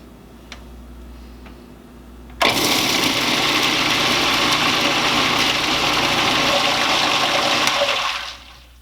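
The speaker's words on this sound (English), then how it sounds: "we are going to blend this for about 2 minutes" A blender runs loud and steady for about six seconds, puréeing garlic mashed cauliflower, starting abruptly after a quiet stretch of faint room noise and cutting off near the end.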